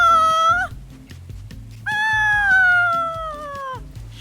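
A cat meows twice in the game Stray, a post-apocalyptic exploration game, with a short cry followed by a longer drawn-out meow, both loud and close over a low rhythmic game soundtrack.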